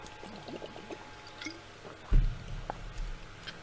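Water poured into a container, a short gurgling splash rising over a quiet room background at a moderate, close level.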